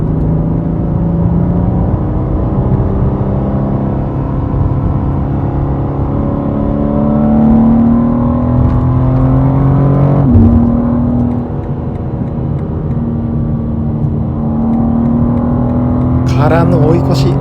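A BMW M2 G87 in Sport Plus mode accelerates hard onto a highway, its engine note climbing steadily through the gears with a brief dip at a shift, loud and close from inside the car.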